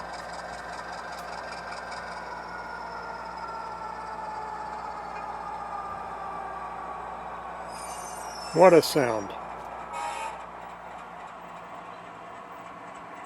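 An HO scale model Alco C415 diesel locomotive with an ESU sound decoder rumbles steadily with engine hum, then a sharp, loud horn blast sounds briefly near the end before fading back to the idle drone.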